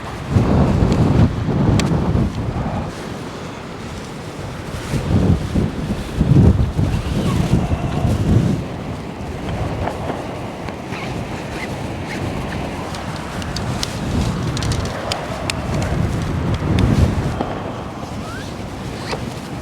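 Strong gusty wind buffets the microphone outdoors while Hilleberg Soulo tents are pitched, loud low rumbling surges rising and falling throughout with no talk.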